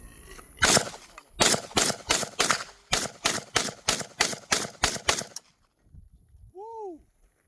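Rapid semi-automatic rifle fire from a Century Arms WASR-10 emptying a full magazine, about a dozen loud, sharp shots in a steady, quick rhythm, then sudden quiet with a brief faint whistle-like tone afterward.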